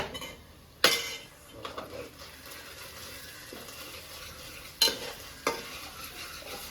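Ginger garlic paste stirred in a hot pan while a mussel (marvai) sukka cooks, a low steady sizzle underneath with a few sharp spoon scrapes against the pan.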